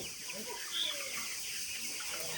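Chickens at a Sonali chicken farm cluck faintly amid steady background noise, with one brief higher call standing out early.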